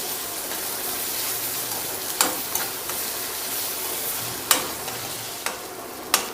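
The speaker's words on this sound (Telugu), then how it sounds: "ఈ అల్లం వెల్లుల్లి పేస్ట్ కూడా ఈ ఆయిల్లో కొంచెం వేగనివ్వండి." Ginger garlic paste fries in hot oil with a soft, even sizzle, broken by a few sharp spatula taps and scrapes at irregular intervals, close by and with nobody talking.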